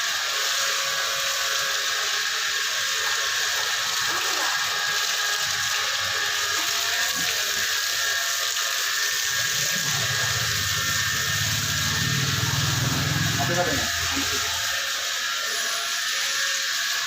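A Royal Enfield Bullet motorcycle is washed with water, a continuous hissing spray running throughout, with a deeper rumbling splash swelling up partway through before easing back.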